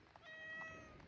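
On a hike near Malibu, a cat lets out a single drawn-out meow, faint and alone against quiet outdoor background.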